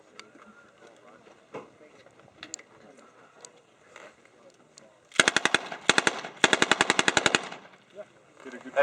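An original 1918 machine gun fires blank rounds at a WWII reenactment multigun match, with two loud rapid bursts of closely spaced shots after a few seconds of faint clicks and quiet background noise.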